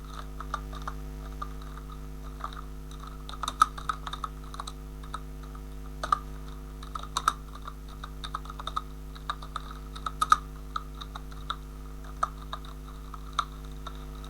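Computer keyboard keys clack in an uneven run of close, crisp taps while a ChatGPT prompt is typed, over a steady low electrical hum with no talking.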